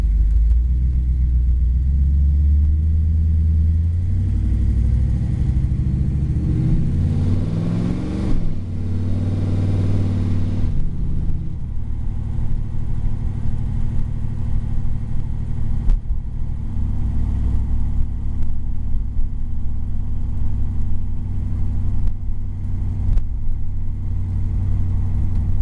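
A 1956 Chevy car drives along with a loud, close engine rumble. The engine revs up and shifts partway through, then settles into a steady low drone for the rest of the ride.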